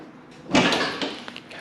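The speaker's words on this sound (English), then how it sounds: "Both doors hinge and latch." A door on a bare C2 Corvette birdcage body, sitting on skates in a shop, swings shut with one close, sharp latching thud, followed by a few faint small knocks.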